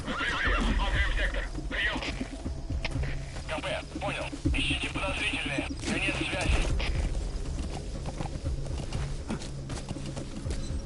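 A horse whinnies and snorts in a PS4 open-world game, with hooves clopping amid a dense mix of game music, effects and distant gunfire, and a voice speaking over it.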